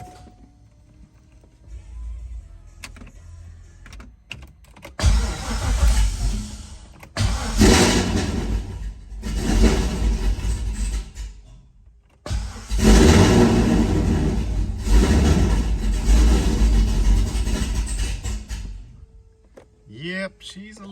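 A cold-start LQ4 V8 in a C5 Corvette with low oil pressure cranks and fires, settling into a loud, rough idle with bursts and brief cut-offs, under occasional talk nearby.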